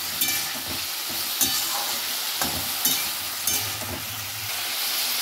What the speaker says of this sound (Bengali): সবজিটা ভাজা ভাজা হয়ে গেছে